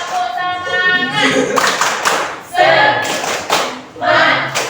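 A school class performs a rhythmic spirit clap in unison, sharp patterned bursts of clapping broken up by children's voices and chanting that rise between the claps.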